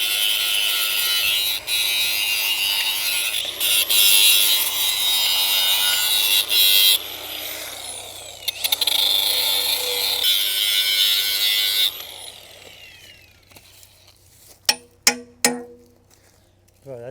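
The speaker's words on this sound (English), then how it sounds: "Lucky I bought the grinder." An angle grinder cleans up a steel excavator part, a loud sustained whine up close that cuts out and restarts several times, then tapers off into quieter scraping and a few sharp metallic clicks.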